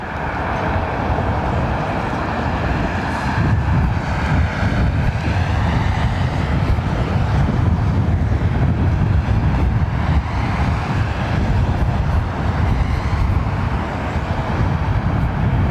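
An airliner taxiing on a single engine at London Heathrow Airport, heard as a loud, steady, broadband jet roar and rumble that holds constant throughout, with no voices.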